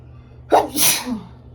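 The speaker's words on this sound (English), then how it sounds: "I usually don't sneeze when I do readings" A single close, sharp sneeze with a quick inhale before it and a trailing exhale.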